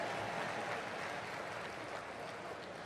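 Applause from a seated audience at a Hindi humorous poetry recital (kavi sammelan), a dense, steady wash of many hands clapping that holds evenly for about three seconds with no voices over it.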